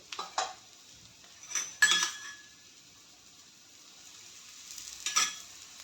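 A cucumber thalipeeth is flipped and roasts on a pan: faint, quiet sizzling sits under three sharp metallic spatula clinks and scrapes against the pan, spaced a few seconds apart, with no voices.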